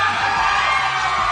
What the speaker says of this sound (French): La foule se réjouit, puis vous l'avez peut-être pas entendu